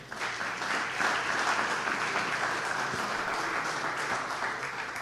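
A church congregation applauds in praise, dense sustained clapping filling the room at an even level, with no talk over it.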